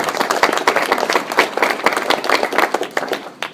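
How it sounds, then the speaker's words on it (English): A small audience gives a round of applause at an opera design presentation, with distinct individual claps audible in a lively, uneven patter that tapers off toward the end. "please give a round of applause to Camellia, who's come here to do this wond"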